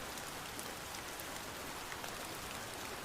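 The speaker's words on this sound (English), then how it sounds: "The rain's pounding outside" Steady, dense rain pouring outside, a constant even hiss of drops with no break or change in level, moderately loud and with no voices.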